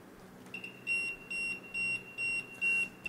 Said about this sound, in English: As long as the leveling range is over 3 degrees, the alarm will start.